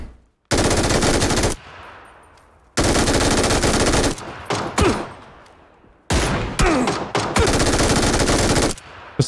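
Automatic gunfire in the video game PUBG on a night-mode Vikendi map, three loud close bursts of rapid shots, each about a second or so long, separated by short pauses with fading echoes.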